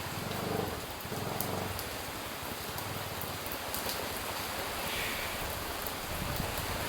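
Rain falls steadily outside a workplace, a dense, continuous hiss of drops on surfaces, fairly loud and even throughout, with no speech.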